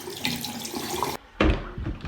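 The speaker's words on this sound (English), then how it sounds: "I'm taking a shower." Water from a shower in a cartoon bathroom runs with a steady hiss, cuts off briefly, then gushes back in a louder splash.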